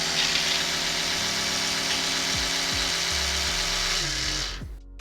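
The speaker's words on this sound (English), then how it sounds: "You can actually see how the toothbrush head vibrates" Electric toothbrush running on high intensity, a steady, close buzzing whine with a bright hiss that holds for about four and a half seconds before cutting off sharply near the end.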